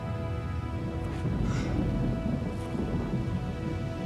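Steady rain with low rumbling thunder swells through a jungle setting, a continuous dense wash of downpour with a few faint higher crackles and no speech.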